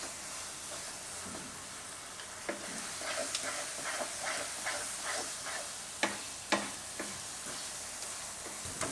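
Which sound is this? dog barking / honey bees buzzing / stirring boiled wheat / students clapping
stirring boiled wheat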